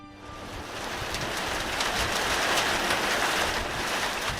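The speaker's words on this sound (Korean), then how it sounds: "우박이 쏟아지다가 폭우가 내리더니" Heavy rain pouring down in a steady, dense hiss of countless drops, loud and continuous throughout with no voices.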